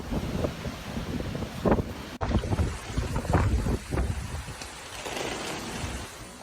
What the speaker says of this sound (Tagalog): makikita po natin yung hangin at saka ulan ang nagdadala sa bagyo na ito